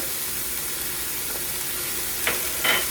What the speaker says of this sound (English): I'll stir that ginger in